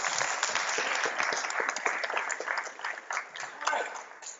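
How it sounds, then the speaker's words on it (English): A room of audience members applauds in a sustained round of dense clapping at a presentation on developing requirements for SharePoint projects, steady and fairly loud for the whole stretch with no talk. "a big round of applause"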